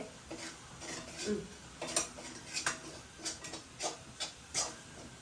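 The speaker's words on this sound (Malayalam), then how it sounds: "ഞങ്ങൾ ഇളക്കി കൊടുക്കട്ടെ." Pork curry stirred in a pot with a ladle, the stirring heard as a series of soft, rhythmic scrapes and metallic clinks at an unhurried pace over a faint background hiss.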